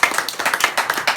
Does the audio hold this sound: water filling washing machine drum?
no